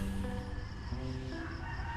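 A rooster crows nearby in the Philippines, a drawn-out cock-a-doodle-doo rising over low rumbling background noise.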